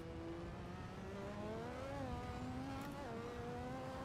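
Race car engine from a racing video game lapping Brands Hatch, a sustained high-revving whine rising and dipping through gear shifts, loud and steady throughout with no talk.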